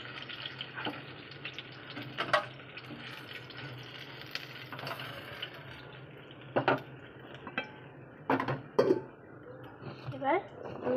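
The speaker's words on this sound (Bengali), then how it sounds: "মাছগুলো আমরা একটা পাত্রের মধ্যে তুলে নিচ্ছি" Fried fish are lifted from the pan into a pot, with scattered light clinks and scrapes of a utensil against metal under steady talking and a low background hum.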